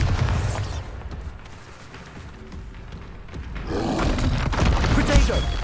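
Bombarda spell blast in Hogwarts Legacy, Xbox Series X: a booming explosion at the start, a quieter rumbling stretch, then a second burst of crashing debris and impacts near the end, with game voices mixed in.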